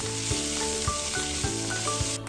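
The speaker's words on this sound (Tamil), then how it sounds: "வெங்காயம் பூண்டு நல்லா எண்ணெயில வதங்கிருச்சு." Onion and garlic sauté in oil in a pan for a drumstick-leaf egg fry, giving a steady close sizzle with a few soft stirring knocks and no voices.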